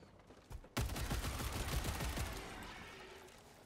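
A sudden loud volley of in-game gunfire in Helldivers 2, with dense overlapping shots and booming impacts that slowly fade over a few seconds.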